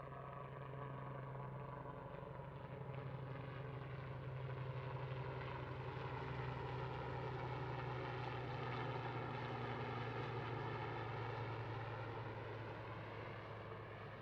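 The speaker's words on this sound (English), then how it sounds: "Just hear a helicopter passing overhead here at the Kennedy Space Center press site." A helicopter passes overhead at the Kennedy Space Center press site, a steady droning engine and rotor hum that swells slightly and then fades, continuous throughout.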